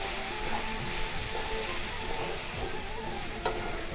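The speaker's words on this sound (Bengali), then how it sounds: "এবারে মশলাগুলো আমি কষে নেব।" Ground turmeric, chili and Kashmiri red chili powder frying in oil in a pan, an even, dense close sizzle with soft stirring scrapes and a single utensil knock near the end, no speech.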